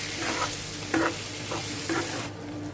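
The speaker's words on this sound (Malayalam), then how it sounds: "ഒരു 2-3 മിനിറ്റ് നമുക്കിതുപോലെ നല്ലതുപോലെ ഒന്ന് മിക്സ് ചെയ്ത് കൊടുക്കണം" Dates and lemon pickle stirred in a pan over heat, with a spoon scraping in several distinct strokes over a steady low sizzle of frying; no voices.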